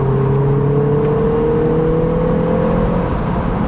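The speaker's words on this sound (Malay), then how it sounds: "kereta cabriolet yang kecil yang dikuasakan oleh enjin 2 liter turbo. Bunyi dia boleh tahan," A MINI Cooper S Convertible with a 2-litre turbo engine drones loudly and steadily, its pitch rising gradually as it accelerates, heard close from inside the small cabriolet with no talking.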